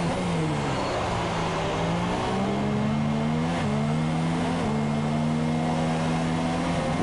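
F2 race cars in a sim racing game scream along at high revs, climbing through upshifts in a continuous, loud onboard drone with no talk.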